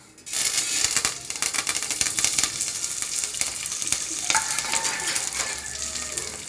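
Cumin, mustard seeds, fenugreek, curry leaves and dried chillies sizzle loudly in hot oil for a fish curry tempering, a dense crackling spatter that continues without a break, with no voices.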